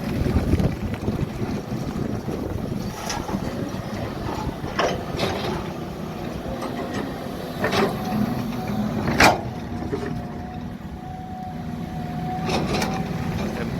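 A steady Caterpillar 320D excavator engine drone rumbles throughout under wind buffeting the microphone, with a few sharp clanks and a short whine rising near the end while it prises up rock.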